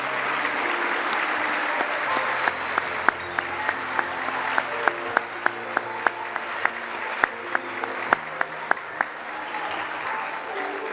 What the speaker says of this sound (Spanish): Pedimos un aplauso para los estudiantes que se graduaron con reconocimiento por su excelente trayectoria